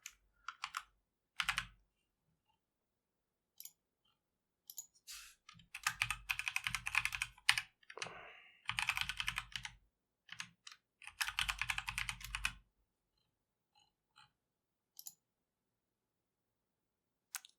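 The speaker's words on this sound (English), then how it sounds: "just type it in there" Keystrokes on a computer keyboard while setting up a Debian virtual machine on Red Hat Enterprise Linux 9, coming in short bursts of fast clicking separated by pauses, close and fairly quiet with no talking.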